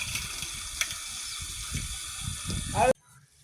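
Water sprays steadily from a motor-pumped hose at a house in a close, hissing rush, with voices talking underneath. It stops abruptly near the end.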